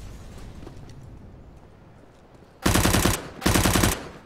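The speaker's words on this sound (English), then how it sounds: "So many shots." Two loud, sustained bursts of rapid automatic AK rifle fire in the CS:GO video game, each lasting about half a second, following a quieter stretch of game ambience.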